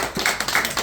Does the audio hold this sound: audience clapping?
yes